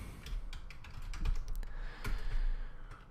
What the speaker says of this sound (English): again I continue to fail at typing